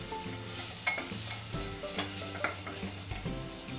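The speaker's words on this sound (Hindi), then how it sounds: "अब ये चॉप करे हुए टमाटर मैंने चॉप करके रखे थे भी ऐड करेंगे। इसे अच्छे से भून लेंगे।" Chopped tomatoes sautéing in a pan for Amritsari chole, with a steady close sizzle and the scrape and clink of a spoon stirring against the pan.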